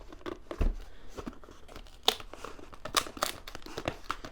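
A taped cardboard box holding a keyboard and mouse combo is pulled open with scattered crinkles, tape rips and sharp cardboard snaps, close and irregular, with no talking.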